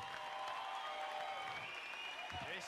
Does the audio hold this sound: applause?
yes